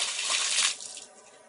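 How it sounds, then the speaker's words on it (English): A bucket of water dumped over a Samsung Vibrant phone in its protective case, heard as a brief, loud rushing splash that quickly tapers off into trickling, close up and without any voices. "now we're going to hit it with a bucket of water and see what happens"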